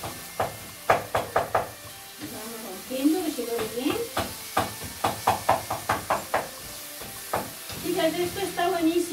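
Blood sausage with apple and raisins browns in a pan with a hissing sizzle. Rhythmic knocking and stirring strokes come in bursts, and a voice talks intermittently in between.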